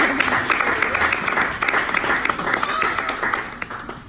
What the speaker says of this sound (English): Clap some applause for Kiki.